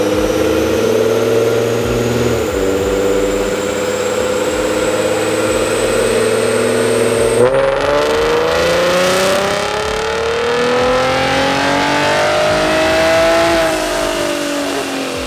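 A Procharged V6 Mustang roars through a pull on a chassis dyno, its loud engine climbing steadily in pitch, briefly shifting, then rising again before easing off near the end.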